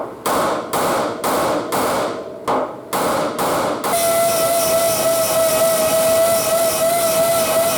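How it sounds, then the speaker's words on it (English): A hammer taps on the door jamb of a 1965 Thunderbird, about eight sharp, evenly spaced strikes close up, followed by a continuous hissing with a steady whistling tone. "I'm going to tap it in right here a little bit."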